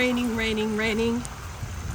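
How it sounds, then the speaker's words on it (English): Steady heavy rain patters outdoors by a pond as a voice speaks over it briefly, then the hiss of rainfall continues alone. "It is raining,"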